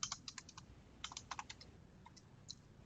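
Rapid typing on a computer keyboard in quick bursts of crisp clicks with short pauses between them, close and fairly quiet with no talking.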